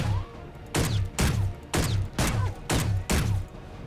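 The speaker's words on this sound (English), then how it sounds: "Listen closely to the rocks when I shoot at them." Bullets striking rock in the space game Space Engineers, six sharp impact cracks at a steady, evenly spaced rhythm, each with a short bright ringing tail, loud and close with no talk.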